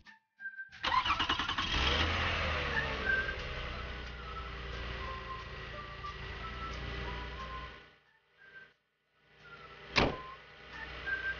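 A car engine cranks and starts, then runs with a rough, revving drone for several seconds before cutting out, followed by a short sharp mechanical burst.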